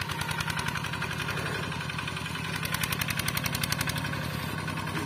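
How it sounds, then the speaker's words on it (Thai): A homemade Thai ride-on tractor engine runs steadily with a rapid, even knocking pulse, loud and close, holding a constant idle-like rhythm throughout without any talk. "การทำงานของรถไถนักขับไทยประดิษฐ์"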